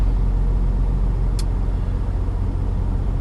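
A car drives along a clear night road, its engine and tire hum a steady low rumble from inside the cabin, with one brief high click near the middle.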